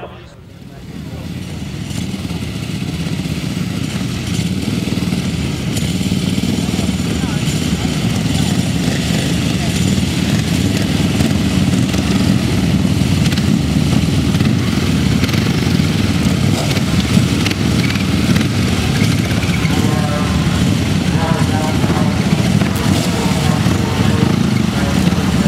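Sidecar motorcycle engines idle together on the start line at a grasstrack race, a steady rumbling drone heard from a distance that runs throughout, under a commentator's voice over the public address.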